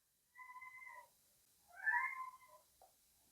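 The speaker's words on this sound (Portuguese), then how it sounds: "Olha o gatinho miando." A cat meows twice, close but soft, in an otherwise silent room: a short, level first call, then a longer, rising and falling second one, ending with a faint click.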